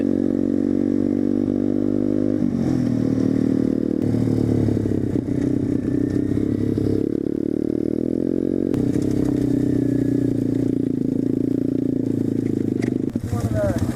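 An SSR pit bike and a Yamaha motorcycle ride across a field, a close, loud engine buzz running throughout with shifting pitch as the throttle changes, rough clattering from the terrain, and speech heard in places under the engine.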